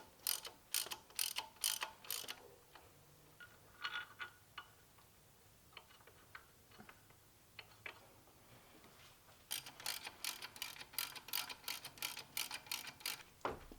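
A ratcheting torque wrench turns a banjo bolt on a Subaru STI power steering pump, giving rapid bursts of sharp close clicks at the start and end with scattered softer ticks between.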